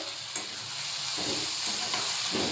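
Chopped okra cooking with green chillies and tomatoes in a pan, a loud close sizzle broken by repeated scraping stirs of a spatula, with bursts of hiss as the pieces are turned, no voices.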